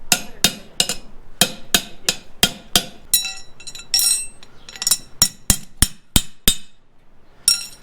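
A steel horseshoe struck with a hammer on an anvil to open it up and turn the heels in: sharp ringing metallic blows in quick irregular bursts, loud and close, with short pauses between strikes.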